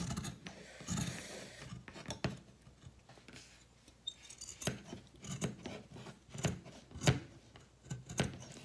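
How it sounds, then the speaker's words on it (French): Scissors in need of grease snip through a t-shirt to cut it into strips for trapilho yarn: close, quiet, irregular scraping cuts and creaks with gaps between them. "Il va falloir que je graisse mes ciseaux parce que c'est une catastrophe."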